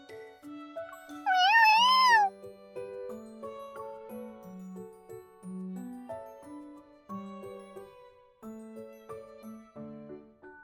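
A kitten in the video game Love and Deepspace gives one bright, rising meow near the start, followed by light, plinking game music that continues alone.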